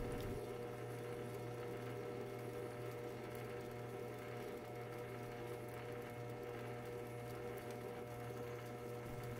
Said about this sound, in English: we're getting nice ribbon chips off the parting tool there